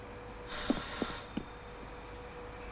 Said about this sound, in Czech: Máš tam telefon!